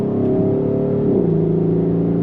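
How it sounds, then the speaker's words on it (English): A Mercedes-Benz GLE 63 AMG S Coupe accelerates hard under throttle, its engine note loud and steady from inside the cabin, pitch sweeping through a gear change partway through. "Give it some throttle."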